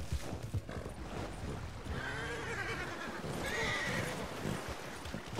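A horse whinnies twice in a Wild West video game, shrill wavering neighs rising over a busy rumble of hooves and ambient game noise, fairly close and loud.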